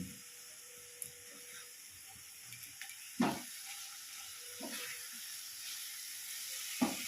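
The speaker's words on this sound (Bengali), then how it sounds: "এবার আমি মশলাটাকে 2-3 মিনিট মতন ভালো করে কষিয়ে নেব, যাতে আদা রসুনের গন্ধটা চলে যায়।" Ginger-garlic spice paste fries in oil in a pan for a stingray fish curry, a faint steady sizzle and hiss broken by a few soft utensil knocks, with no talking.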